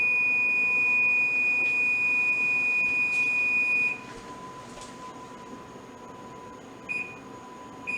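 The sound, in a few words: kitchen timer going off for baking pork chops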